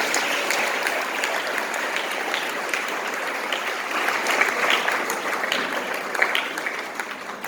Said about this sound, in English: shall we give them a round of applause